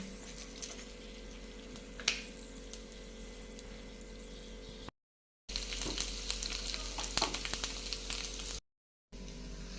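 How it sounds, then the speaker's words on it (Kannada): Garlic, curry leaves and urad dal sizzle in hot oil as a tempering for chutney, a steady close crackle with a few sharper pops and brief gaps of silence. "ಇವಾಗ ಚಟ್ನಿಗೆ ಹಾಕೊಳ್ಳೋ ನೋಡ್ರಿ ಒಗ್ಗರಣೆ ಹಾಕಿದೆ"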